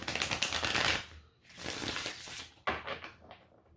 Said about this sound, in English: I'm just going to do a couple of quick shuffles